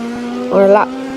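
Ford Focus WRC rally car in a Roblox racing game, a steady game engine drone that rises briefly into a louder rev or tire squeal midway, with talk over it.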